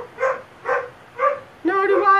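A small puppy gives three short yipping barks, then a longer higher whine-like bark, close and clear, evenly spaced about half a second apart, with no one speaking.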